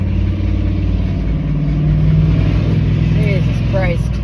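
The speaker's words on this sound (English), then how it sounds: "He's just driving around like he needs a fucking muffler." A loud car driving without a muffler gives a continuous rough engine drone with throaty harmonics that swell slightly, while people talk over it.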